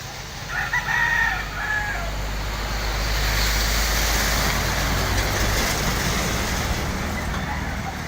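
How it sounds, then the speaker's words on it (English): A steady, dense roar of road traffic on a diversion road behind a mall fills the scene, with a rooster crowing briefly near the start. "The noise of the traffic is probably going to be drowning my words."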